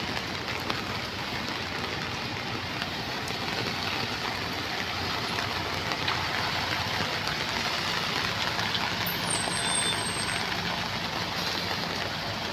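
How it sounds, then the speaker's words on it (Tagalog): A container truck engine rumbles and idles steadily during a heavy downpour. Rain noise fills the whole span at a constant level, the engine stays fairly distant, and no one speaks. "Ayun yung truck, pakita ko sa inyo guys."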